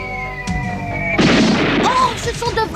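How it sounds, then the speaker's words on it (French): Cannons fire real cannonballs during a ceremony near a buried-treasure site, giving two booms: a sharp report followed by a heavier, rolling blast, with agitated voices and noise right afterward. "ce sont de vrais boulets de canon"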